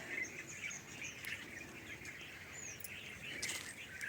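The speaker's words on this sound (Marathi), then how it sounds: "पक्ष्यांचा चिवचिवाट सुरू आहे" Faint bird chirps and tweets scattered over a steady outdoor hiss in a farm orchard with sapota trees, with a soft insect-like buzz in the background.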